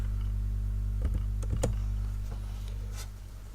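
Several quick keystrokes click on a computer keyboard over a steady electrical hum, a short burst of taps then a lone later click.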